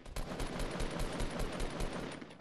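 Rapid automatic gunfire from the video game Fortnite rattles on in a steady stream of loud, closely spaced shots lasting the whole moment.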